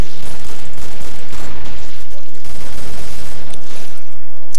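Rapid gunfire from a Killing Floor match, dense bursts of shots packed together almost nonstop, loud and close, with players talking over it now and then.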